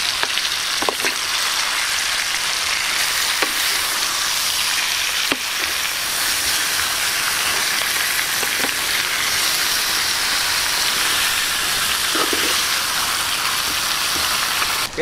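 Pork meat sautéing in a pan for pork asado with kamote, a loud continuous sizzle and crackle up close with occasional sharp clicks of a utensil against the pan, no talking.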